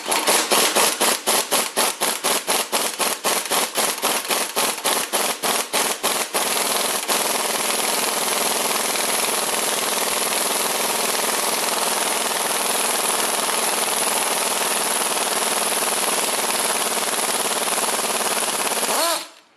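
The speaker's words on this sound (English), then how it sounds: "But now I have to pull the hub off of the crankshaft. And I'm just going to use my gear puller to do that very slow." A gear puller works the hub off the crankshaft of a '62 Studebaker 289 engine: rapid rattling bursts for several seconds, then a loud continuous whirring grind that cuts off sharply at the end.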